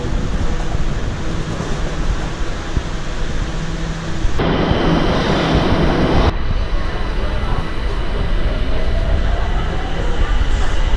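A metro train running through Tehran, Iran, heard from inside as a loud continuous rumble and rolling roar of the rail car, with a brief louder stretch midway as the sound shifts.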